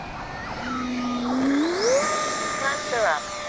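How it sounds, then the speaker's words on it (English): A Kavan Skyfox L-39 RC model jet passes overhead, its turbine whine rising and sweeping in pitch as it flies by. Someone talks over it. "Man, what a great flying jet."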